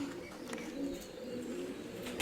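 Soft cooing of high-flying pigeons, low and repeated, fairly faint against a quiet outdoor background in light drizzle.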